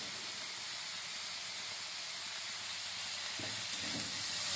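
Cauliflower stalks fry in a pan with a steady, even sizzle and hiss throughout, and a couple of brief stirring scrapes near the end.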